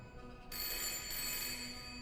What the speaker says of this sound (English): there's a phone on the premises. It's ringing right now